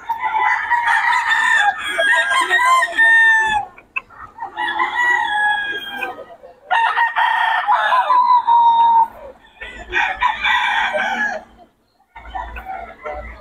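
Several roosters crow loudly and close by, one after another in long, overlapping calls, while chickens cluck in between, at a chicken farm in Bocaue.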